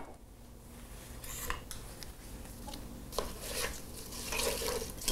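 Cinnamon and white sugar being mixed in a pot, heard as scraping and clinking of a spoon against metal in irregular strokes over a low steady hum, no talking.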